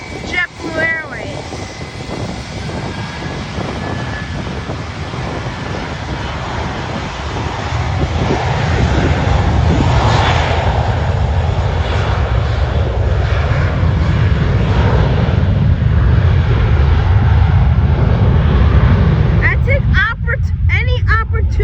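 Airliner jet engines at Fort Lauderdale airport at night, a loud sustained roar that builds midway and holds strong, with wind noise on the microphone and a person talking over it.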